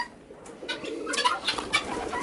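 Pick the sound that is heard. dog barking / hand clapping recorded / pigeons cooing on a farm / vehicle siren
pigeons cooing on a farm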